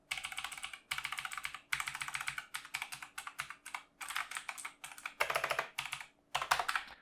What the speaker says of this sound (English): There's a little sound test for the keyboard